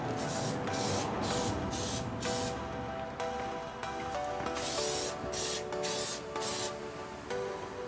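Plasti Dip coating sprayed from an aerosol can onto car interior trim pieces, a steady close hiss broken into bursts of varying length, with no talking.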